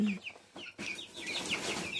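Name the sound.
young chickens clucking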